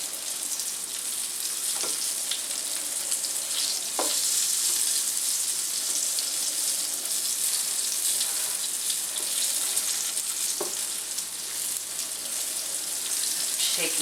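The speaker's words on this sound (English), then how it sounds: "as the fish browns in the pan, I will be turning it with the tongs until it's just a nice light brown on all sides." Redfish dusted in cornstarch sizzles steadily in a hot pan, a continuous broadband crackle with a few sharp clinks of tongs as the pieces are turned, no voices.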